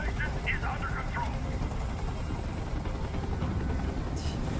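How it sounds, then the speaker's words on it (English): In the video game Detroit: Become Human, a helicopter hovers overhead with a steady, loud rotor drone and engine hum as a voice speaks briefly over it. "Tell that helicopter to get out of here."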